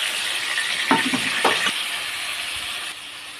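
Steady hissing sizzle of chopped tomato and nigella seeds frying in hot oil, with a couple of brief stirring clinks partway through, the sizzle easing slightly near the end.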